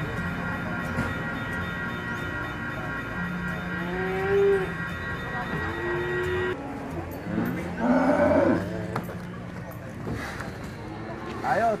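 Several large cows moo in long, low drawn-out calls at the Ambarketawang cattle market, over a steady background hum, with voices of people talking nearby.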